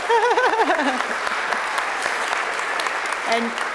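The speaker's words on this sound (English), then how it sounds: "give him a round of applause, please." Audience applause at a women's achievement induction ceremony, steady dense clapping filling the room after a short stretch of speech at the start.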